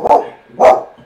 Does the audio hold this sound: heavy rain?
no